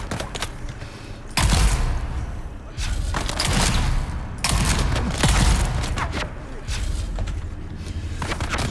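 Gunfire in the video game Dune Awakening comes as loud, repeated bursts of rapid shots with heavy thuds, separated by short pauses. A voice is faintly heard between volleys.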